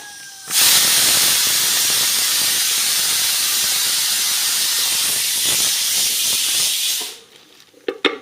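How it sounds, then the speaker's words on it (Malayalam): A kitchen pressure cooker vents steam in one loud, continuous hissing whistle lasting about six seconds. It cuts off abruptly, followed by a few faint clatters. "ഞാൻ കുക്കർ ഈ ഒരു വിസിലോട് ഓഫാക്കണേ"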